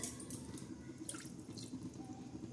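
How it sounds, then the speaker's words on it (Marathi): Water is poured in a thin trickle onto turmeric inside a pressure cooker, giving a soft, close, continuous dripping splash with faint clinks of metal, heard alone without talk. "अशी थोडंसं पाणी टाकणार हळदीला"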